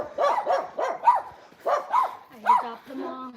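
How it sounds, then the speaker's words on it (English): A small dog barks in a rapid series of sharp, high yaps, about eight in a row with brief gaps, close and clear. "That dog has a very distinctive bark."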